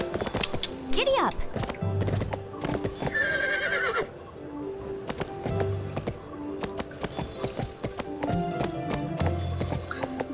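In the Barbie Horse Adventures video game, a horse whinnies and neighs while steady clip-clop hoofbeats run beneath. Game jingles and music sit over the sounds, and a voice briefly speaks.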